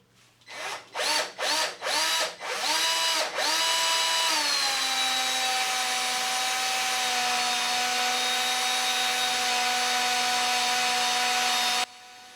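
A cobalt drill bit bores out a grub screw with cutting paste, starting in several short revving bursts, then settling into a steady, close, high-pitched whine that holds for about eight seconds before stopping abruptly.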